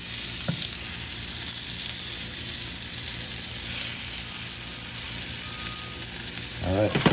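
A grilled cheese donut fries in butter in a pan, giving a steady close sizzle throughout, with a brief utensil clink near the start and a louder clatter at the very end.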